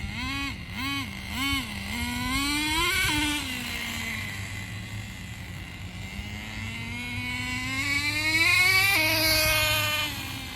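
A Thunder Tiger TS-4n RC boat with a 4Tec Pro .15 nitro engine runs loud and close, its high-pitched whine wavering as the throttle blips early on, then holding steady before rising again near the end.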